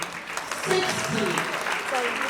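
An audience claps and cheers at a 60th birthday celebration. The sustained clapping runs under voices and shouts from the crowd.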